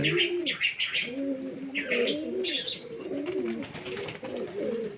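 Several pigeons coo in overlapping, rolling phrases close by, mixed with bright chirps that come in short bursts, filling the whole stretch without pause.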